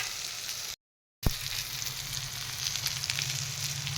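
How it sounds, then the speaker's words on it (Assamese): Eggplant fries in a pan with a steady hiss and crackle while it is turned and stirred, including a brief scrape, with a short gap near the start. "তল ওপৰ কৰি এনেদৰে লৰাই দিলোঁ"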